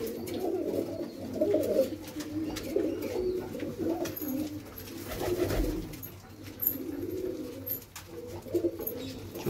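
Pigeons of a fancy breed coo softly and repeatedly in a loft, the low rolling calls overlapping steadily over faint background noise.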